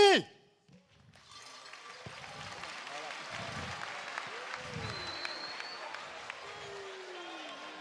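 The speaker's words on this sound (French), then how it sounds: "Allez, on peut l'applaudir très très fort." An audience applauds steadily, a broad wash of clapping from a crowd that holds for several seconds after a brief sound at the start.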